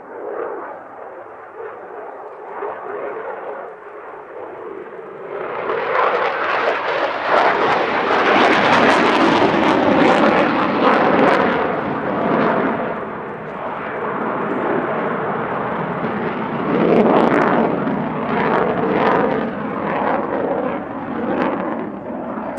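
A Belgian Air Force F-16 fighter jet roars through an airshow display at Cosford, its engine noise swelling from a distant rumble to a loud, sustained, wavering blast that stays strong throughout.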